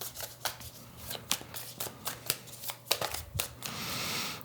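Tarot cards riffled and shuffled by hand in a series of crisp, close flutters and snaps, ending in a longer sustained riffle, with no talking.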